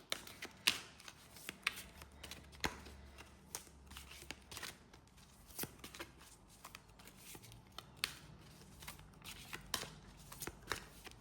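Tarot-style cards being shuffled by hand during a card reading, a soft steady stream of riffling and flicking clicks, close and quiet throughout.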